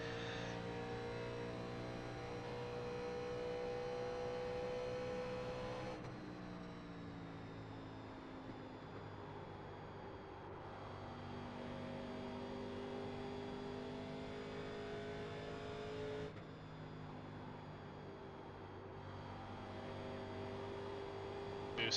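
A race car engine in iRacing at Indianapolis holds a steady high-pitched drone, and the pitch drops abruptly at gear shifts and rises again through sustained revving, with no speech.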